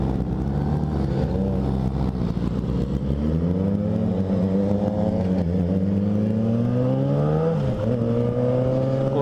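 A Honda Hornet motorcycle runs steadily and loud throughout, its engine note sweeping upward as it accelerates, with no voices over it.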